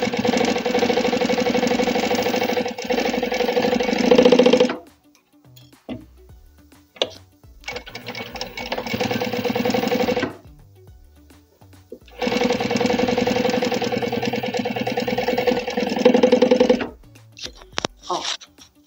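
A sewing machine topstitches both edges of an accordion wallet, running in three loud, steady mechanical bursts of several seconds each, separated by quieter pauses with small clicks and handling sounds.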